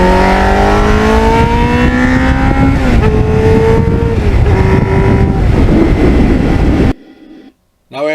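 A 1989 Kawasaki Ninja GPX750R motorcycle being ridden roars loud and steady, its engine pitch climbing and then shifting with wind rush, before cutting abruptly to near silence near the end.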